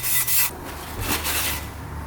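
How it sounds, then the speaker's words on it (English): A Scotch-Brite pad scrubs worn coating off a UTV engine cylinder, giving short harsh rubbing strokes in quick bursts, close and loud, with no talk. "That might come off with a Scotch-Brite pad."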